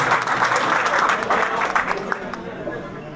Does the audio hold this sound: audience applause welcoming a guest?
yes